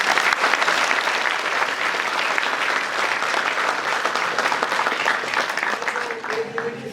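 An audience claps loudly for a young student performer, Vivek, after a children's theatre play at a festival, dense sustained applause that fades slightly near the end.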